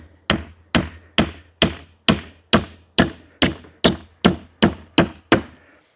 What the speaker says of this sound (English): tap the nail in a couple of times upside down before you hammer it in